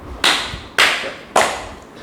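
Three sharp, loud hand claps, evenly spaced about half a second apart, each a crisp close slap with a short decaying tail, against a quiet room during a podcast.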